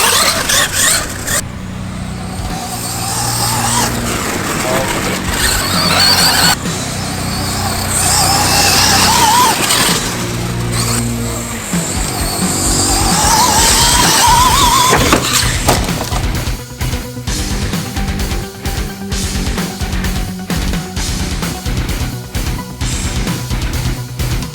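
A Traxxas X-Maxx RC truck launches over a real monster truck. Its electric motor whines and revs loudly, then it crashes and clatters, followed by a run of sharp, choppy knocks and bumps.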